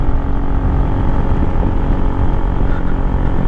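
A motorcycle climbing a steep hill on a scenic island road, its engine laboring with a steady, loud, continuous drone close by, no voices over it.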